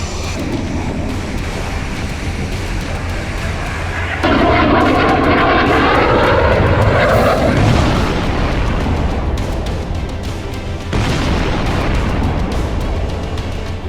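A Tejas fighter jet's engine roars loud and steady, with a surging rush as the aircraft passes close by, then a sustained rumbling drone that carries on to the end.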